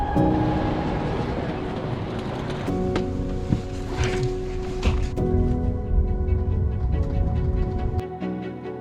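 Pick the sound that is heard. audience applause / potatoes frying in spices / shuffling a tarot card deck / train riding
train riding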